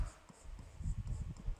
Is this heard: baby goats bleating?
no